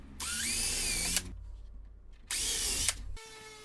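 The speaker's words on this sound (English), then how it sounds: "take your 1/8 inch bit and just drill down about 1/2 inch" A power drill with a 1/8 inch bit whines in two bursts, each about a second long, drilling pilot holes about 1/2 inch deep, separated by a short quiet pause, close and loud.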